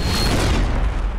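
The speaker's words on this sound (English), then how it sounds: "Nice shot, McCool." A gunshot in an adult animated cartoon lands as one loud, heavy boom that fills the whole moment and rumbles on before fading slightly, with no voices.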